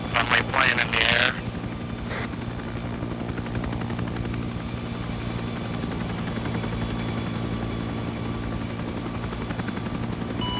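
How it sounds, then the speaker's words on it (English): A friendly propeller plane flies overhead in a Vietnam War video game, its engine a steady buzzing drone with rhythmic pulsing throughout, and a short burst of voices at the start. "Friendly plane in the air."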